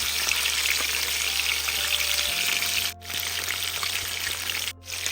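Masala-coated fish fries in a pan, a loud dense sizzle close up and continuous, dipping briefly twice as if the fish is moved or turned, with no voices.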